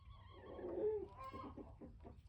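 A rooster giving low, throaty clucks, a short burst of guttural calls close by in a quiet setting.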